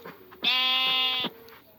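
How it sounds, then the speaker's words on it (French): A sheep in the video game Minecraft lets out one loud, clear, wavering bleat lasting under a second, with quiet background between. "Toi, mouton, tu entres ici."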